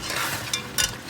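Chicken pieces sizzle in a hot pan over high heat while being gently stirred for a desi chicken curry, a steady frying hiss broken by two brief scraping stirs close by.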